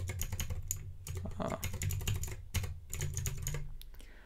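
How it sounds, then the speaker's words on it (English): Rapid, clicky mechanical keyboard typing close up on a hand-wired Levinson keyboard with Gateron blue switches, bursts of sharp keystrokes with short pauses between them. "the keyboard that you can hear is the Levinson with Gateron blue switches"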